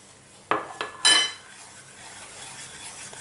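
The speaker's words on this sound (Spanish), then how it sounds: "Seguimos moviendo. Y voy a añadir el percarbonato." Homemade stain-remover soap paste being stirred with percarbonate in a bowl, giving a few sharp clinks and scrapes of a utensil against the container near the start, then fading to quiet.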